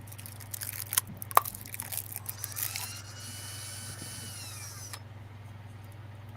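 A power drill works on a miniature pattern, whirring steadily at close range with a few sharp clicks and crunches early on, then a smoother continuous whine under a low constant hum.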